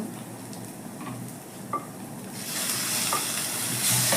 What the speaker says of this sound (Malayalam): ഇനി അതേ പാനിൽ തന്നെ കുറച്ച് വെളിച്ചെണ്ണ ഒഴിച്ച് സബോള, വെളുത്തുള്ളി, ഇഞ്ചി മൂപ്പിക്കാനായിട്ടിടാം